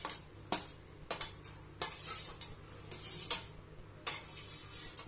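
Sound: frying potatoes in a pan for potato masala

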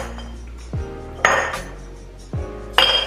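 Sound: ice cubes clinking into glass jars

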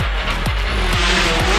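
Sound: turbo rally car engine revving up

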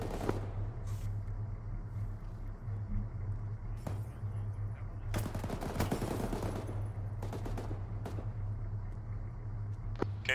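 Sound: gunfire and bullets flying overhead in video game ARMA

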